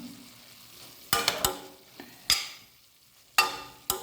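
Raw banana peel thoran with coconut is stir-fried in a pan, with several sharp spatula scrapes and knocks against the pan spaced over a faint low sizzle, close and otherwise quiet.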